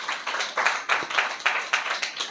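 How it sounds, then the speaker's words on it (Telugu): A group claps in irregular bursts at a Telugu church gathering, several loud rounds of hand claps rising and falling with brief gaps between them. "గట్టిగా చప్పట్లు కొడదాం కదా"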